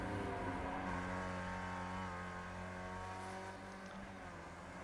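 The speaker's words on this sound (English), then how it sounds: "You hear those tyres screeching as he's getting as much speed through those corners." A race car at Oulton Park is driven hard through the corners during a Skip Barber Cup qualifying session, with a steady, loud engine drone throughout and no clear separate tyre squeal standing out.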